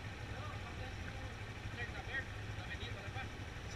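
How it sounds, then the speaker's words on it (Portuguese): A motorcycle engine idles steadily at close range during a city ride, a constant low rumble running under the talk of people nearby throughout. "desce com a moto ligada"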